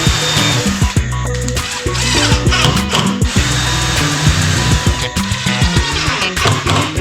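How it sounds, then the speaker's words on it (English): Power drill pre-drilling a piece of timber for homemade rear drawers for a Land Cruiser wagon, a loud close motor whine in repeated bursts with brief pauses, no talk. "It's always a good idea to pre-drill before you put a screw in"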